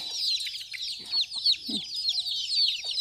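Chickens clucking on a farm in rural Thailand, with a busy chorus of high chirping chicks close by and a few lower clucks from adult hens breaking through now and then.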